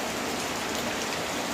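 Rain pours down in a steady, dense hiss of drops striking surfaces, continuous and even for a brief moment with no talking.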